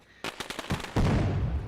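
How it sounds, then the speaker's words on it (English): Fireworks blast around a motor racing track near the pits: a run of sharp, close bangs that swells into a dense, rumbling barrage of explosions. "as the fireworks are blasting around us"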